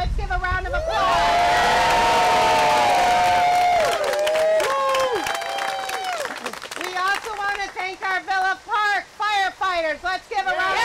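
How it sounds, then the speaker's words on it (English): Crowd applause and cheering greet a World War II U.S. Coast Guard veteran at his 100th birthday celebration, loud and sustained at first, then breaking into scattered whoops and shouts. "Let's give a round of applause."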